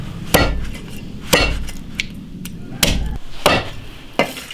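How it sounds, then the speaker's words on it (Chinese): A cleaver chops snakehead fish bones into small pieces on a cutting board, landing five sharp, heavy thwacks at uneven intervals, close and loud with quiet gaps between. "把骨头剁小"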